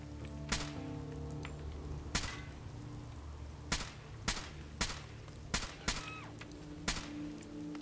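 Custom modded gunfire in Fallout 4: about eight sharp, irregularly spaced shots crack over a steady low background hum, each brief and punchy with a quick decay.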